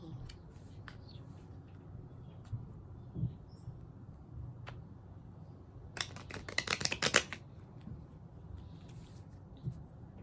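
A brief burst of rapid riffling of a tarot deck lasting about a second, close by, in an otherwise quiet room with a few faint taps around it.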